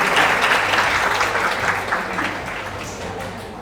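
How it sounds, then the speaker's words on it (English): Audience applause at an Indonesian cultural arts event, a broad steady wash of many hands clapping that stays loud and then eases slightly toward the end. "Once more, big round of applause"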